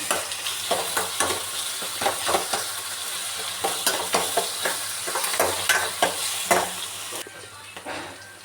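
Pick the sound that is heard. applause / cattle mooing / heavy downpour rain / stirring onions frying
stirring onions frying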